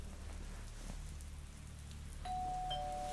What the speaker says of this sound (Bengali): এমন সময় কলিং বেল বাজে।